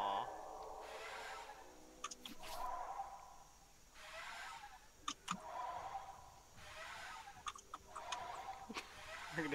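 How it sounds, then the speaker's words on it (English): Bird calls from The Isle dinosaur survival game repeat in a burst of clucking, fowl-like squawks. Bursts arrive roughly every couple of seconds at moderate volume, with sharp clicks and whooshes mixed between them and no talk. "We're gonna spam bird noises."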